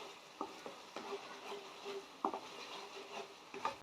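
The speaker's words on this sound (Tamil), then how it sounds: "ஸ்டவ்வை மீடியம் ஃப்ளேமில் வச்சுட்டு இதை வதக்கி விடுங்க" Masala for a capsicum paneer butter masala being sautéed in a pan over a medium flame, with a soft steady sizzle broken by several sharp ladle scrapes and stirs, close and fairly quiet.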